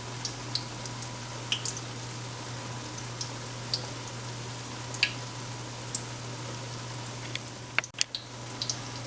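Cod and green plantain akara fritters frying in hot oil, a steady soft sizzle with scattered sharp pops and crackles, close and alone with a low hum beneath.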